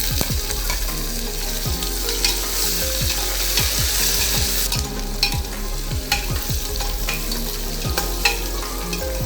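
Diced carrots and beans stir-fry in a hot pan for pulao, a steady sizzle overlaid with repeated scraping strokes of a spatula at a quick, regular rhythm, close and fairly loud with no voices.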